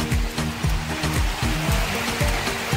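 Waves wash and break in a steady rolling churn at Rajodi Beach, with repeated low surges and splashing water close by, no voices.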